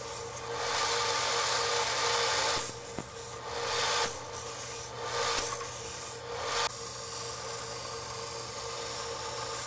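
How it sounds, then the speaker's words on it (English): A sander shapes a fiberglass micarta knife handle on a knife made from a saw blade, giving a steady, close abrasive rasp with brief dips and surges as the handle is pressed and lifted. "Once I get it pretty close to round on the sander, I just go by hand and start buffing it out."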